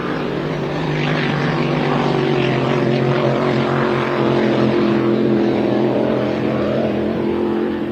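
Powerful engines of 1,500-horsepower, 30-foot racing powerboats roar steadily and loudly throughout a Grand Prix heat on San Diego's bay, a dense continuous drone with no voices.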